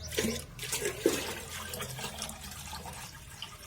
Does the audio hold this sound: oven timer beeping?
no